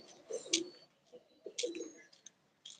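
Pigeons, including a crested pet pigeon, coo in short soft bursts at close range, with a few higher chirps mixed in and quiet gaps between calls.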